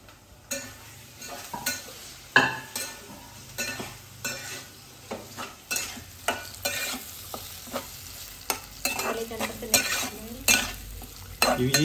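Potatoes tossed with turmeric frying in a pan, stirred with a utensil that gives repeated loud scraping knocks in an irregular rhythm over a constant close sizzle.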